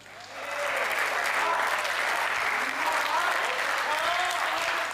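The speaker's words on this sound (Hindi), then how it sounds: "इस कविता पर आज तक कहीं इतनी तालियां नहीं बजी" Audience applause after a poem at a Hindi comic poetry gathering, swelling in quickly and holding as full, sustained clapping from a large crowd.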